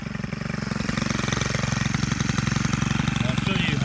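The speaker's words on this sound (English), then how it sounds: "it's very easy to trim weeds with this machine" A Stihl FS91R string trimmer engine at partial throttle runs steadily up close, a loud buzzing two-stroke drone with a rapid pulsing rhythm that holds for the whole stretch.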